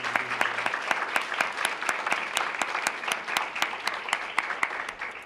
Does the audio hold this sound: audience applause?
yes